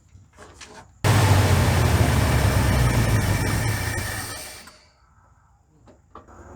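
A 1972 Chevrolet C30 truck, long abandoned on a farm, runs with a loud, steady engine roar that begins abruptly, holds for several seconds, then fades and dies out, with faint voices before and after.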